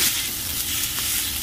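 Yakisoba noodles and meat are stir-fried in a hot pan, giving a loud, steady, close sizzle with constant hiss and no speech.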